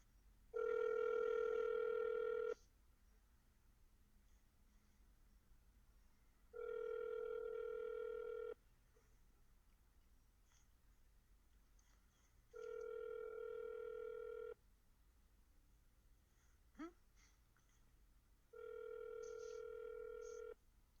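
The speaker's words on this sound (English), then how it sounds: "That's the phone ring." An outgoing telephone call rings on the line, four long even tones separated by regular pauses, clear and steady over a faint background hiss.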